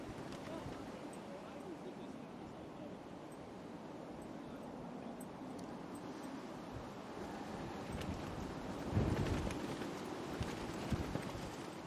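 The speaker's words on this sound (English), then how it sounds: "So the wind's getting up again" Strong gusting wind during Storm Amy at Manchester Airport, a constant rough low roar buffeting the microphone, swelling louder near the end, with no clear talking.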